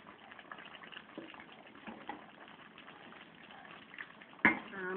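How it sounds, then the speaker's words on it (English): A pot of Jamaican salt mackerel run down simmers with soft, faint bubbling and liquid sloshing as it is stirred, ending in a brief louder clatter near the close. "Give it a stir"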